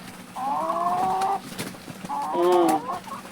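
Hens cluck and squawk in two drawn-out calls close by, over a steady background hum.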